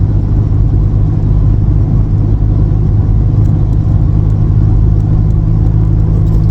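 A steady, deep rumble from a Volkswagen Passat's drivetrain while driving, loud and constant, with a low droning hum throughout and no voices.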